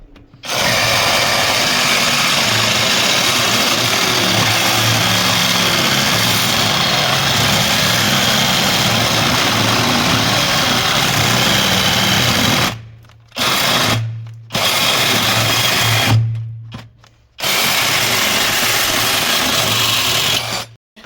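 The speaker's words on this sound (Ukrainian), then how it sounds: "а пилкою по дереву будемо різати метал" A LEADER Ultra BL20-22M cordless reciprocating saw with a wood blade buzzes steadily and loudly, grinding through 14 mm steel rebar, then cuts out briefly a few times near the end before stopping.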